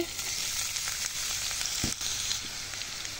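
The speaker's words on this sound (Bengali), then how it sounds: "এই তেলের মধ্যে দিয়ে দিচ্ছি 1 কাপ পেঁয়াজ কুচি" Chopped onions hit hot oil, left over from frying potatoes, for a budget Bangladeshi tehari and sizzle in a steady, close, fairly loud hiss, with a single stir or clatter near the middle.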